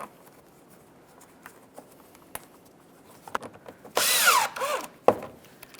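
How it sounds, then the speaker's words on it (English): A power drill drives Phillips head screws into the plastic front inner fender liner of a 2012-2018 Nissan Altima, a short close whirring burst followed by a brief second spin after quiet handling clicks. "Now we'll install our 4 Phillips head screws."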